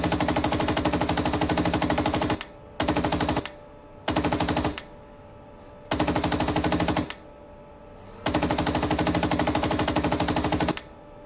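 Coaxial machine gun on a tank in the PC game Gunner HEAT PC, fired in five loud sustained bursts of rapid automatic fire, some short and some several seconds long, with brief gaps between them.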